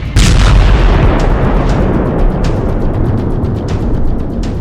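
Explosions from a US strike on an Iranian weapons depot in Syria at night, a loud dense rumble with repeated sharp blasts and crackling bursts throughout, close and unbroken, with no voices.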